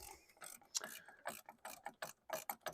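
A ratchet with a 10 mm socket loosens a battery terminal nut in a series of quiet, rapid clicking strokes, each burst of ratcheting separated by short pauses, heard up close.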